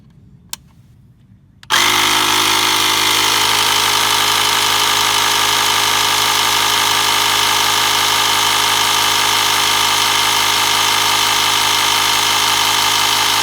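A SUAOKI jump starter box with a built-in tire inflator kicks on after a quiet start, then runs as a loud, steady, buzzing compressor drone that stays unchanged to the end.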